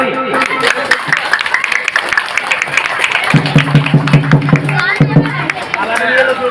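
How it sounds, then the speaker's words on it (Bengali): Crowd applause at a primary school's 75th anniversary ceremony, continuous clapping from a gathered audience with babble, a voice over a loudspeaker and a sustained musical tone partway through. "হাততালি হাততালি"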